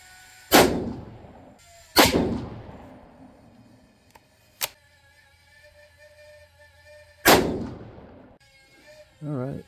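Four sharp 6.5 Creedmoor rifle shots fired over a chronograph outdoors, loud cracks each trailing off into a short decay, spaced irregularly a second or several apart, with faint sounds between.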